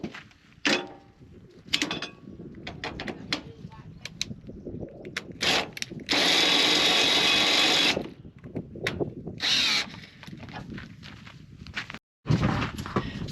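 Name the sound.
cordless drill winding caravan legs down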